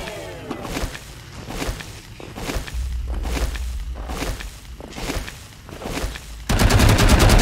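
Turret fire in the video game Wasteland 3 rattles in loud, repeated bursts of automatic gunfire with thudding impacts, ending in a harsher sustained mechanical roar.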